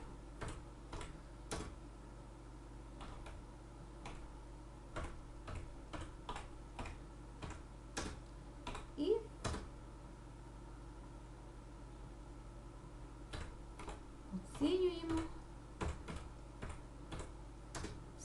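Sparse, irregular keystrokes on a computer keyboard click near and fairly quietly over steady room hiss, with a few brief bursts of quicker tapping.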